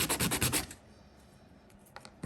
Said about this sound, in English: You can just use a bit of, old sandpaper to make sure those edges are